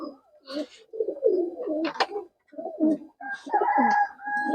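Murshidabadi Tumbler pigeons coo close by in clear, throaty bursts separated by brief silences, the calls growing louder and more layered toward the end.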